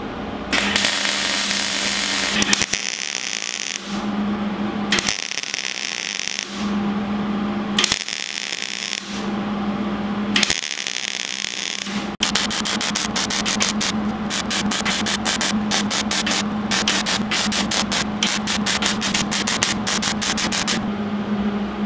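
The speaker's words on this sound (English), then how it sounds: "so now I need to just weld in every single little joint where it touches the metal" Welding tacks on the joints of an expanded steel roof rack for a Jeep XJ Cherokee, a continuous loud crackling hiss broken into several short bursts and then a longer sputtering run.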